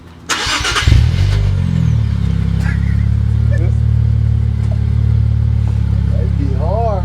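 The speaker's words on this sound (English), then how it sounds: "Rev it, rev it." An Infiniti Q50 with a new aftermarket exhaust fires up with a sharp bark, then holds a loud, deep, rumbling idle up close. The note swells a little at times, and voices chatter faintly nearby.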